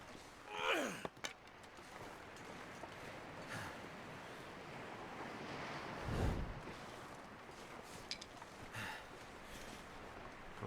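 A steady headwind blows as a player walks through snowy terrain in The Long Dark, a continuous broadband rush of wind with gusts swelling and easing, under an audible sigh or breath near the start.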